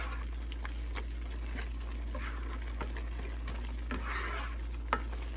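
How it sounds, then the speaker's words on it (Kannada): Beetroot burfi mixture cooking down on a stove while a spatula stirs it, with soft scraping strokes and a low sizzle at intervals over a steady low hum, quiet and close. "ಒಲೆ ಮುಂದೆ ಸ್ವಲ್ಪ ಸ್ಪ್ಯಾಚುಲ ಅಲ್ಲಿ ತಿರುಗಿಸ್ಕೊಡ್ತಾ ಇರಬೇಕು"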